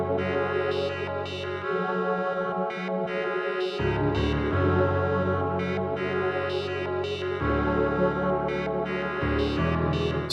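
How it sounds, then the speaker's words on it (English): Piano main melody in a hard mainstream beat built in FL Studio, shaped with EQ and reverb, plays steadily and loudly for the whole stretch alongside layered synths and drums, no talking. "So with the effects, the piano, the main melody, that's what I ended up with."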